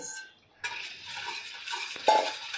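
Rice flour dough for papad being stirred in a pot on the stove, with scraping and clinking of a spoon against metal, a louder knock near the end, and no talking.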